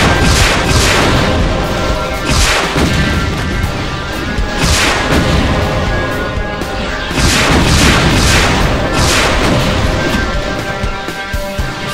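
Rockets fire at barons in the classic first-person shooter Doom, playing a custom level on episode one, map eight. Loud, booming blasts and explosions repeat in quick succession, densely layered throughout with no pauses.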